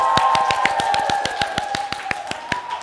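A studio crowd claps in a steady run of sharp, evenly spaced claps to welcome guests Silp and New at a The Face Shop first-anniversary event, with a sustained tone and background chatter running underneath.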